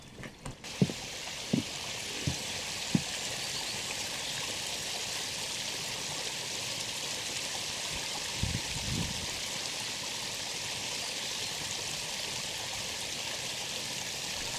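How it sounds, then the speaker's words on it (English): Water from a reservoir rushes steadily down a concrete channel toward a canal with a constant hiss, joined by a few soft knocks and bumps early on and near the middle. "Water runs downwards to the canal level."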